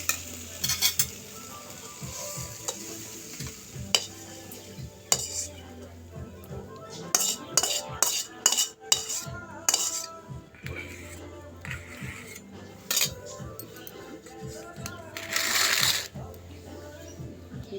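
Sweet pumpkin fry stirred in a pan, with scraping and clinking of a metal spatula against the pan over a light sizzle, bursts of sharp clatter as the pieces are lifted out, and a voice speaking in places.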